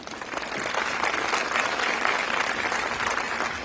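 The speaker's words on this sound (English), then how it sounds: "we applaud her for it" Sustained audience applause at an airport event honoring a sex trafficking survivor, dense steady clapping for several seconds at moderate loudness with no voices.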